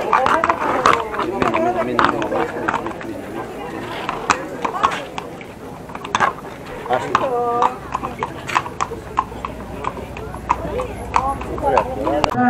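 Horses' hooves clip-clop on pavement during a religious procession carrying an icon in Kapi, Lesvos, with irregular clatter heard under steady crowd chatter and nearby talking.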